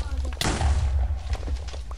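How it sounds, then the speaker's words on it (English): Minecraft TNT blowing up a wall, one sharp loud boom followed by a deep rumbling tail, with game sounds and faint talk around it. "It takes 17 TNT to blow up a wall."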